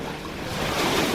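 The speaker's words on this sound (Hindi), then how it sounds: "सामने विशाल समंदर, ऊपर नीला आसमां, मंद मंद लहराती हवा।" Ocean waves wash in under a gentle sea breeze, a soft rushing surf that swells slightly louder toward the end, with light wind noise and no voices.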